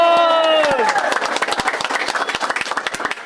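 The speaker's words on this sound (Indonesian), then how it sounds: "Kalau tepuk tangan semua, jangan ada yang nggak tepuk tangan" Crowd of volunteers at a political rally in North Lampung breaking into loud, sustained applause, sharp overlapping claps rising after a brief sung or spoken tone at the start.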